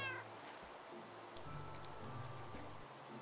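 A cat meows in the Minecraft video game, faint and brief over soft ambient game sound, with a couple of quiet mewing calls and no talking.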